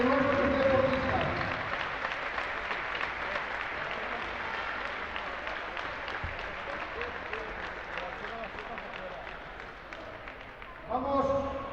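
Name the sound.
audience applause for the coaches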